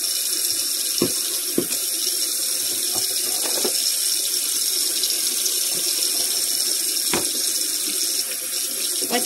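Kitchen tap running steadily into a sink while the underside of a dish drain is wiped, a constant close rush of water with a few soft knocks and clunks underneath.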